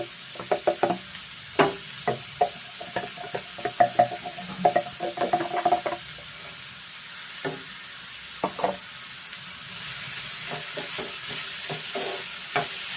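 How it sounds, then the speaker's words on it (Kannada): Chopped vegetables for a stuffed samosa dosa filling fry in hot oil, a steady sizzle beneath clusters of spoon stirring and scraping knocks against the pan, close and without speech. "ಸ್ವಲ್ಪ ನಾವು ಫ್ರೈ ಮಾಡ್ಕೊಬೇಕಾಗುತ್ತೆ"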